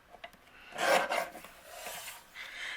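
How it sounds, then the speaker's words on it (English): A paper tag being trimmed on a paper trimmer: a short rasping slide of the blade across paper, close, with faint handling scrapes around it. "I think I'm going to trim off just a little bit more off the bottom."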